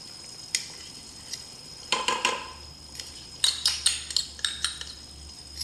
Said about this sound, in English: Joyce told me to quit tapping on things.